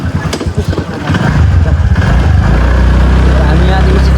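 A tractor engine runs loud and close during a ride to the market, settling into a steady, heavy chugging drone after a few seconds of mixed noise and voices.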